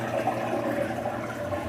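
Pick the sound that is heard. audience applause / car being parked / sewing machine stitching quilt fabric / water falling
water falling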